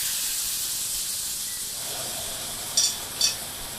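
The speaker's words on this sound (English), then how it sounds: "we're gonna add the sherry. This is cooking sherry." Cooking sherry hits a hot pan of seafood for pasta, producing a loud, steady hissing sizzle throughout, with two short bright clicks near the end.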